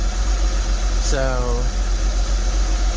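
A 2003 Porsche Boxster engine, after sitting unused for over four years, idles steadily with a low, constant rumble; a voice briefly speaks over it.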